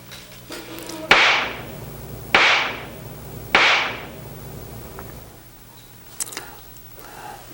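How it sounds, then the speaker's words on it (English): Three sharp, loud bangs from an underground high-voltage cable fault arcing, spaced about a second apart, each ringing briefly before fading, followed by a faint click near the end. "creating a loud audible bang that can be compared to a large fireworks going off"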